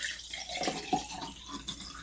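Liquid poured back into a container during an unboxing of a Qlife Q Touch device, a short close trickling splash with uneven bursts and no talk.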